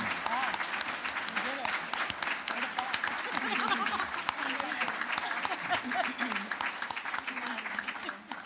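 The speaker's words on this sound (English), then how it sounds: "please give a round of applause and appreciation to our panelists" Audience applause for conference panelists at a community gathering, a steady patter of many hands clapping throughout, with some voices mixed underneath.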